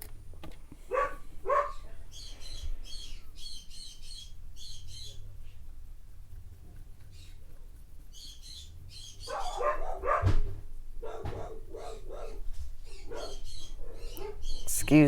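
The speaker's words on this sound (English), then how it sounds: "They have a thing with barking at my neighbors." Household dogs barking at the neighbors in short sharp bursts, some clustered and some spaced apart, close to the microphone, with a person talking at times.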